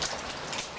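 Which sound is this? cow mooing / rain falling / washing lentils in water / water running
rain falling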